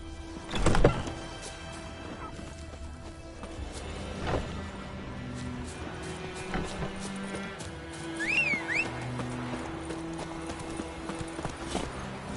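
Horse Roach's hooves clip-clop steadily in The Witcher 3, with a loud thump near the start, occasional neighs and a whistling game ambience underneath.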